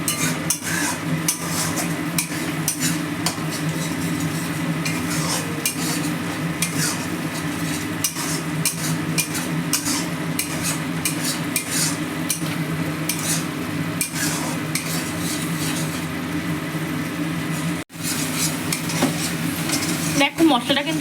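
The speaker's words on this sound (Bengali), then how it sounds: "তো দেখো মশলাটা ভালো করে কষিয়ে নিচ্ছে, যতক্ষণ না মশলাটা থেকে তোমার তেলটা আলাদা হয়ে যাচ্ছে।" Masala spices stirred and sautéed in a little oil in a pan until the oil separates, a steady scraping and clinking of utensil against metal with a soft sizzle running continuously throughout.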